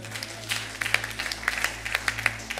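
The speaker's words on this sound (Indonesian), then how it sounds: "Tepuk tangan." Church congregation clapping during a worship service: a modest scattering of hands producing uneven, sharp claps over a steady low electrical hum, fairly close and moderately loud for under three seconds.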